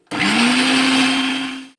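A mixer grinder grinds soaked rice for hotel-style dosa batter, a loud steady motor whine with a dense whirring roar that starts abruptly, holds for under two seconds, then cuts off.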